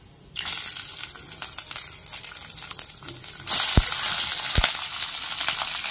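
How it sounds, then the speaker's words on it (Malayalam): Garlic tipped into hot oil where mustard seeds have already popped, for a pineapple pickle, sizzles steadily and close. The frying swells louder partway through, with a couple of dull thumps, and no voices. "വെളുത്തുള്ളിയെല്ലാം കൂടിയിട്ട് ഇട്ട് കൊടുക്കുന്നു"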